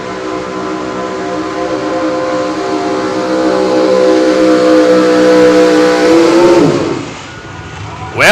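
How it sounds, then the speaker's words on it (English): A Chevrolet super stock drag-racing truck sits at the start line in Madera, California, its engine holding a loud, steady droning roar that swells, dips briefly near the end, then bursts back up. "So super stock truck action here."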